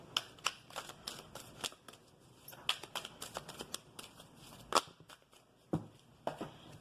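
Tarot cards being shuffled by hand, a run of crisp, rapid riffling flicks and soft card slaps in an irregular rhythm, close and fairly quiet, with no talking.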